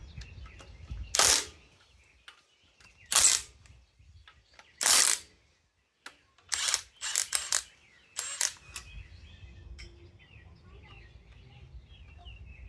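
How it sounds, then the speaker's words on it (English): A dipstick bolt is worked loose from an S10 engine during an LS swap: several sharp, close metallic clicks and ratchet bursts, spaced by pauses against a quiet background. "Go ahead and pull the dipstick bolt out while we're here"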